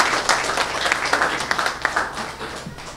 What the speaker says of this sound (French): On applaudit encore M.